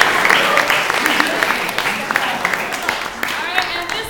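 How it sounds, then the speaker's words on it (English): Applause from a school improv show audience, a steady wash of many hands clapping at fairly close range, continuing without a break and with no speech over it. "Give a round of applause."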